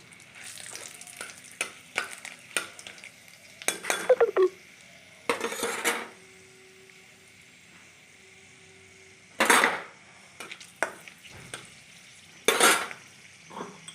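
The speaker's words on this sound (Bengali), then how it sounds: "আমি তেলে দারচিনি, লং, এলাচটা ফোড়ন দিলাম" Cinnamon, cloves, cardamom, peppercorns and dried red chilies are tempered in hot oil. A faint sizzle runs underneath while several sharp bursts of sputtering and clattering utensil knocks come and go, with quiet gaps between them.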